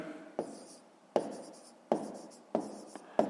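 Pen on paper during a fifth-grade math exercise, a series of short scratchy writing strokes each starting with a light tap, repeating at a regular pace, close and fairly quiet.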